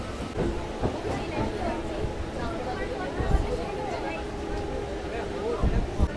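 Local passenger train pulling out of Tamluk railway station, a steady rumble with rail clatter and a faint whistle tone, under a crowded carriage's murmur of voices.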